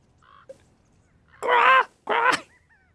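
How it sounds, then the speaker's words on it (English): Birds call outdoors in two loud, harsh, raspy bursts, preceded by a few faint short squeaks against near silence. "It's just some nature sound, some birds chirping."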